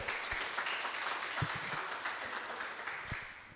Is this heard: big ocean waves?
no